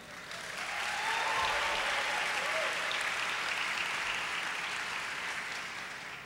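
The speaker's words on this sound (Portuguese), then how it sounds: "mandamos uma salva de palmas" A church congregation claps for a visiting pastor, a full, even swell of applause that rises quickly, holds steady for several seconds and then tapers off.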